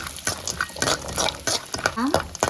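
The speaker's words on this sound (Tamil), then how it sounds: "முந்திரி, ஏலக்காய், திராட்சை இதெல்லாம் போட்டு நல்லா செவக்க வறுத்து" Cashews, cardamom and raisins frying in ghee, a close, steady crackle broken by repeated stirring scrapes of a spoon against the pan, with a voice faintly in the background.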